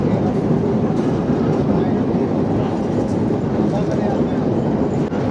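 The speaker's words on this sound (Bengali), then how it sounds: "একটা ব্রিজ দিয়ে ট্রেন যাচ্ছে।" A train crosses a bridge over the Bentota River in Sri Lanka, its steady broadband rumble and rolling wheel noise continuous throughout, close and loud, with voices faintly present underneath.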